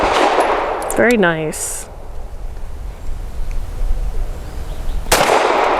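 A Sig M17 X Change pistol fires one sharp, loud shot near the end. Earlier, a short spoken remark is followed by a brief crack, all over steady outdoor range noise.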